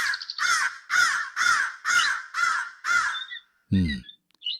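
A cartoon crow caws in a run of seven loud, harsh, evenly spaced calls, singing in an animated moral story, followed by a short gap and one brief squawk at the end.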